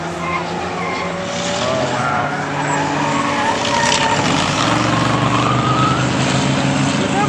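An American race car in an endurance race at Portland roars loudly and continuously, engine whine shifting in pitch as it passes, with tire noise and a busy background.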